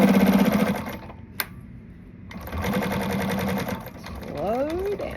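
A sewing machine stitching fabric at a stitch length of 5 for a garment pattern, rapid mechanical chatter that pauses briefly and then resumes at a steadier pace, close-up, with a voice speaking near the end.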